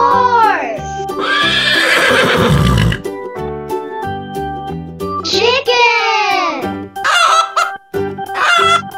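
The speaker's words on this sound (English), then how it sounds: "Horse." A horse neighs loudly in a farm animal sound set for toddlers, with long whinnies and shorter follow-up calls heard over cheerful children's music, and rooster-like calls mixed in.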